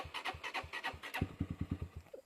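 A motorcycle engine passing close by, a quick run of rhythmic putting pulses that pick up in a fast, even beat before trailing off.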